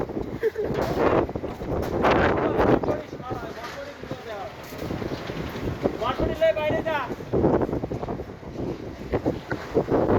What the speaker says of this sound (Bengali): এই যে খুব বাতাস, লুঙ্গি যাবে আকাশে